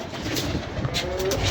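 Kept pigeons coo softly in a brief, steady murmur, with a couple of faint clicks or rustles and no voices.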